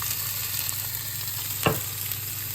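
Bagel-recipe ingredients frying in a pan with a constant close sizzle and hiss, one louder scrape or crackle partway through and another at the end, with no talking.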